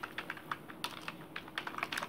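Keys clatter on a computer keyboard as a message body is typed, a quiet, close, irregular run of light clicks with short pauses between bursts.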